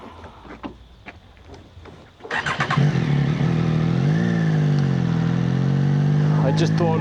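A Triumph Street Triple motorcycle on a road ride in Mae Hong Son, Thailand: after quieter rustling, the engine starts to pull away with a loud steady drone and rising revs, close up, under a rider's voice.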